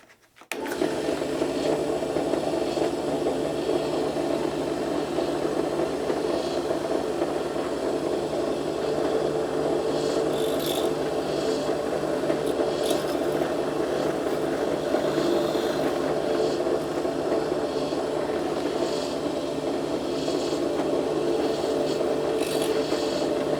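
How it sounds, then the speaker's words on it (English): A 1/16 drill bit bores holes in the step part of a 'Russell' live steam model locomotive, giving a steady, close, continuous grinding whir that runs unbroken throughout with no talking. "I'm going to drill the holes in this in the step with a 1/16 drill."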